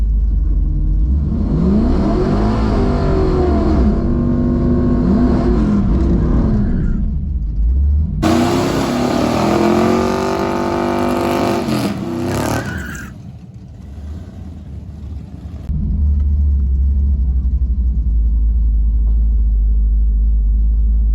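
A Chevrolet Caprice drag car does a burnout in the burnout box at a drag strip, its engine rumbling loudly and revving hard with tire noise, then dropping back to a steady heavy idle.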